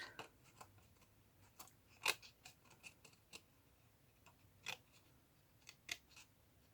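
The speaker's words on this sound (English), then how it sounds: "And then I'm going to cut" Scissors snip through paper for a handmade Valentine tag book, a series of faint, close, irregular crisp cuts at a quiet table with no talk.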